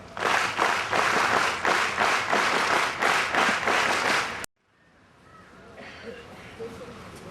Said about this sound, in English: Claps, go.